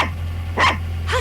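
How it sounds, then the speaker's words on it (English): A pet dog named Cleopatra gives two short, sharp barks about half a second apart, fairly close, over a constant low electrical hum. "Hush, Cleopatra. It's not nice to bark at people."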